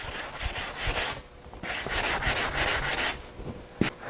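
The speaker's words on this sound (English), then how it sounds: "on this I'm going to use 100 grit on another EPP sanding block" Repeated rough scraping strokes of a 100-grit EPP sanding block rubbing across foam, steady back-and-forth bursts with a brief pause midway, close and fairly loud.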